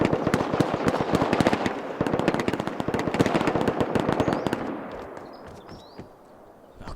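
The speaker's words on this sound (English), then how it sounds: "the area seemed quite lively based on not too distant gunshots" Rapid bursts of gunfire crackle in the game Rust, a dense run of sharp shots that fades and thins toward the end, heard from a moderate distance.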